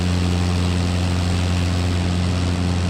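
Zenith CH 750 Cruzer light aircraft engine running steadily at full power for a short takeoff into a headwind, a loud continuous propeller drone with strong low harmonics, close and unbroken with no talk.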